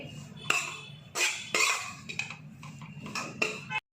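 A spoon scrapes and clinks against a pan while atta flour is stirred with ghee and spices, giving irregular close metallic knocks and scraping strokes in a quiet kitchen.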